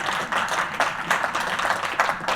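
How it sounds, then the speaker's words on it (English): Audience applause at the close of a climate innovation forum session, a steady wash of many hands clapping at moderate level with slight swells, no voices over it. "Big round of applause."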